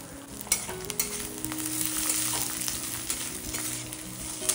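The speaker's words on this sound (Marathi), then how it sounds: "असं 2 चमचे तेल टाकलं आणि लसूण लालसर रंग येईपर्यंत भाजून घ्यायचं" Unpeeled country garlic roasts in two spoonfuls of oil in a pan, giving a steady close sizzle and crackle with occasional stirring scrapes and no speech.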